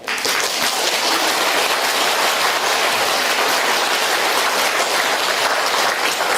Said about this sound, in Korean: 여러분들 박수 치니까 이상하네